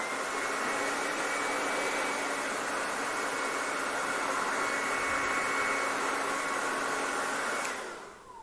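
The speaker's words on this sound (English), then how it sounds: "I know I have the blow dryer really close to her scalp" A blow dryer on a high fan setting held close to a person's scalp while styling a quick weave, blowing as a loud, steady whoosh with no talk before cutting off at the very end.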